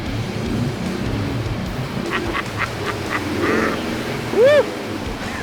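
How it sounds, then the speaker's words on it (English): A 2012 Ford F150 Raptor SVT on 35-inch tires with a Corsa exhaust and Airaid intake, in 4-low, plows off-road through a muddy puddle; a steady rumble of engine and washing water runs throughout, and a voice whoops near the end. "so we got our first official puddle here of the day"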